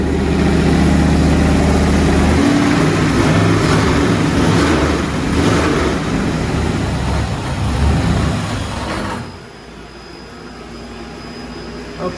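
A 5.3L LS LM7 V8 running on a dyno, loud and close with a deep steady rumble, a few surging pulses midway, then the level drops sharply to a quieter hum near the end.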